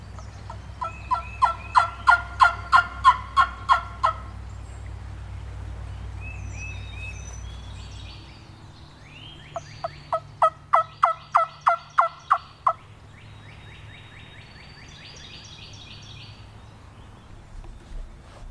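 Three wild turkey toms gobble close by in a field edge near woods, sounding two bursts of rapid, rattling gobbles followed by scattered softer calls, over a faint low rumble that fades partway through.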